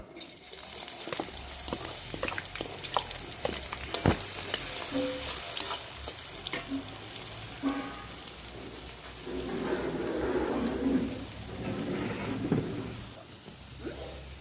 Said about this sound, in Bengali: এখন আমি পেঁয়াজটা ভেজে নেব